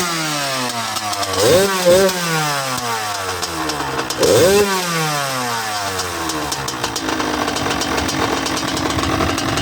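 A cold Kawasaki KX 85 dirt bike, running on 1:40 premix and smoking slightly, blips its throttle twice in loud rising-and-falling revs, then settles into a steady, raspy buzzing run close to the microphone.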